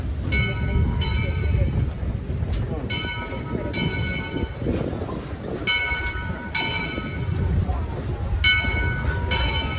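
Yosemite Mountain Sugar Pine Railroad train rolling downhill toward Lewis Creek Canyon, a loud continuous rumble of wheels on track with repeated ringing bell tones, heard from on board with some talk.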